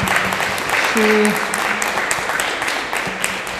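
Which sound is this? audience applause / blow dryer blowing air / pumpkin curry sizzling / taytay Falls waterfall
audience applause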